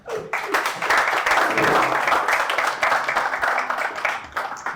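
An audience at a tech talk gives a round of applause, a steady, moderately loud wash of clapping that starts abruptly and holds before thinning slightly at the end.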